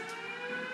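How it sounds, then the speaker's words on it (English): A steady, wailing tornado warning siren holds a sustained tone throughout, moderately loud with a faint background hum. "now we are hearing the sirens"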